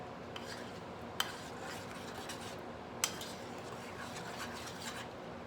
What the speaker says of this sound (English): keep stirring until the mixture it gets